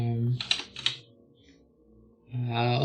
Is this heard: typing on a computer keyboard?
yes